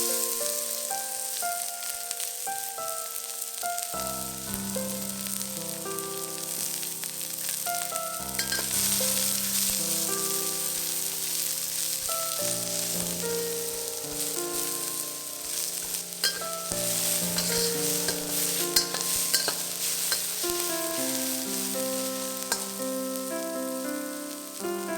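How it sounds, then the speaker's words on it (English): Onions frying in two tablespoons of oil in a pan over medium heat, a loud, steady crackling sizzle that runs throughout, with occasional stirring and no talk. "add in 2 tablespoons of oil. Add in the onions and fry them till they are translucent."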